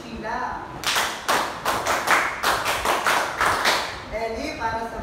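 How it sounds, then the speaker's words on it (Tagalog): A group claps together for Sheila in a classroom demonstration, giving roughly eleven sharp claps in a steady counted rhythm. Talking is heard just before and after the applause. "Bigyan din natin ng 11 palakpak si Sheila"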